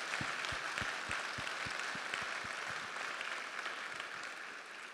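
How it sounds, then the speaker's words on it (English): Sustained applause from a gala audience fills the room, dense and steady for the whole stretch with scattered individual claps standing out. "How about a round of applause for Doug and wish him well?"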